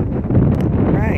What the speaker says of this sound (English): Oh Lord, it's windy.